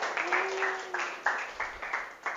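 Classroom applause for a student group after its presentation: a small room of students clapping in a loose rhythm, fairly quiet and close, with a brief steady tone sounding in the background partway through.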